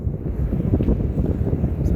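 Wind gusts outdoors near a taxi stand, a steady low rumbling buffet across the microphone that persists for the full two seconds with no speech.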